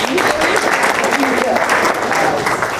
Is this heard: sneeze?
no